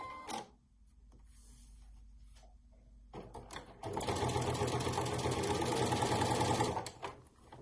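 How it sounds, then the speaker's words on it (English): A sewing machine fitted with an adjustable bias binder foot starts after a few clicks and quiet handling, then stitches in a loud, steady, rapid whir for about three seconds before stopping. "Take the foot to the machine, attach it, adjust your needle if needed, and then begin to sew."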